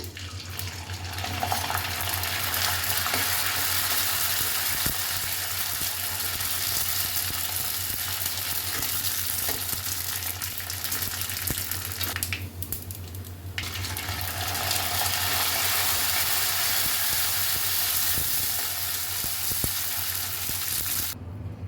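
Sun-dried rice crisps frying in hot oil, a steady, bright sizzle that runs nearly unbroken, dipping briefly once before resuming at full intensity.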